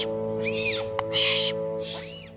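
Owl hoots twice, loud and close, with a tonal hum steady underneath and a short sharp click between the calls.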